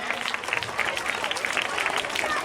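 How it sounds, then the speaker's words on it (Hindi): Audience applause welcoming a guest at a school cultural programme in Hyderabad, steady dense clapping from a crowd throughout, with some voices mixed in. "आप तमाम पुरजोर तालियों के साथ मेहमान का खैर मकदम कीजिए"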